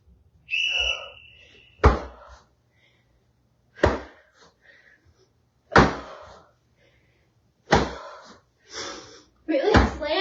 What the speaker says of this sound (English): Really slam that towel down.